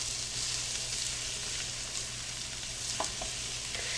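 Flour cooking in a skillet while being stirred for smothered pork chops, a continuous soft sizzle with occasional light scrapes and taps from the utensil, close and alone.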